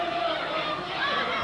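A wrestling arena crowd murmurs and chatters in a dense, steady roar, with a commentator's voice talking over it.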